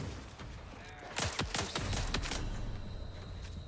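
Rapid assault rifle bursts in Outer Worlds 2, a cluster of sharp reports over about a second and a half, loud against a steady game background hum, with no talk.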